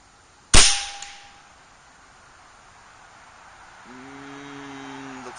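A single sharp report from an Air Venturi Avenger .25 air rifle shooting a 40 grain pellet, the crack decaying over about half a second, then quiet until a soft tonal hum rises near the end.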